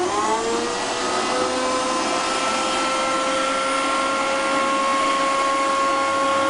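A Dremel rotary tool's small high-speed motor whines steadily and loudly, its pitch settling after spinning up, with no talking.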